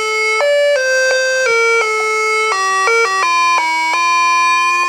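A smart intercom doorbell rings loudly, a bright electronic melody of stepped sustained tones playing alone and continuing without pause.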